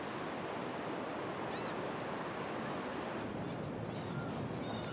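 A steady wash of Pacific Ocean surf rolls at the coast by the small fishing town of Okuki in Japan. It is a constant broadband roar with wind, and faint distant calls come through it.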